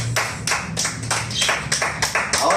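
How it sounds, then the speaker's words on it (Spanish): A church congregation claps for God in loud, even unison beats, about two per second, with a low hum under the steady rhythmic claps. "Dale un aplauso fuerte a tu Dios."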